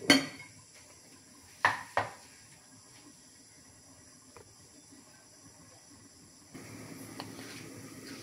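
A lid clanks onto a cooking pot of simmering chicken gizzards and liver, two sharp metallic knocks near the start with softer clinks after, over a faint steady hiss of steam.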